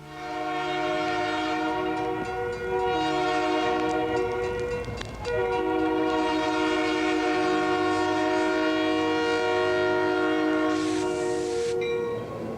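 CB&Q 4978 steam locomotive departing Ottawa at low speed sounds a long, loud, steady chime whistle that holds almost continuously, with a brief break and then more sustained blowing over rumbling train movement.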